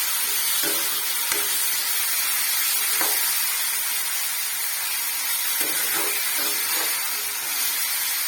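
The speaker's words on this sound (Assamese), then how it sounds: "আদা নহৰু দি দিছোঁ ধুনীয়াকৈ তেলত অকণমান" Ginger and garlic sizzle steadily in a little hot oil, a continuous bright hiss with a few soft clicks from stirring, close and fairly loud with no talking.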